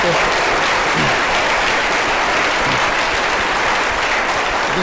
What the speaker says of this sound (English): Join me in a round of applause for Dr. Carlisle.